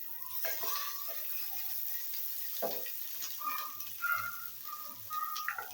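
Ginger garlic paste fries with browned onions in a pan, giving a soft, low sizzle with scattered small pops and light crackles, fairly faint and steady without talk.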